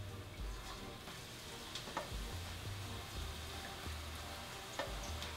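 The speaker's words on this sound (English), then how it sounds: "we're going to start frying this off. That's the sound you want." Battered cauliflower pieces crackle and sizzle in hot oil, a steady close-up hiss with occasional sharper pops and faint stirring.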